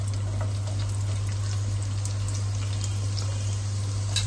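Onion and grated coconut roast in about two spoons of well-heated oil, producing a steady close hiss and crackle that carries on evenly with a low hum underneath and no talking.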